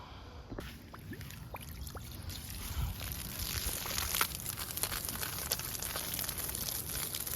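Water from a garden hose without a nozzle splashes and trickles onto freshly planted poppy seeds in soil, a faint continuous wet patter with small crinkling noises, no voices.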